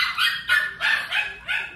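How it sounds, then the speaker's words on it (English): Dogs playing trade a quick series of five loud, close, high-pitched barks and yips in a steady rhythm, with no other sounds. "So you're gonna hear barking."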